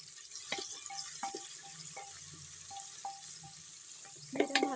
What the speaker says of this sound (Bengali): আমি লাল লাল করে ভেজে নেব আমি এখানে তেজপাতা আর একটা শুকনো লঙ্কা আর মটর দিয়ে দিই